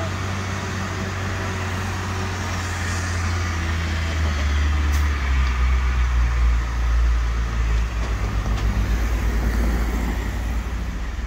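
A pickup truck engine labours up a steep hill at a house construction site in Panama, a steady low rumble that deepens and grows louder as the load increases, with no talk over it.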